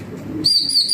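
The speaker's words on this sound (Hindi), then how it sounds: "कबूतर हरीफों की छतों के ऊपर है" A pigeon coos briefly and softly at close range, followed by a higher chirping bird call, outdoors on a rooftop where pigeons are kept.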